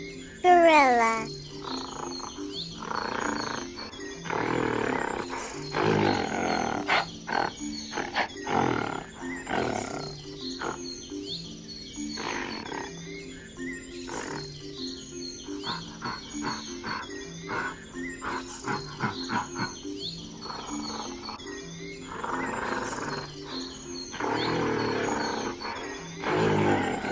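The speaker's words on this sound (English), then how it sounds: "Gorilla." Gorilla calls from a wild animal sound compilation: a string of rough grunts, hoots and roaring bursts with short pauses in between, fairly loud and close throughout.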